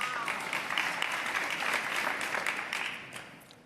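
Audience applause at a mayoral press conference in New York City, a steady wash of many hands clapping that holds for several seconds before tapering off near the end.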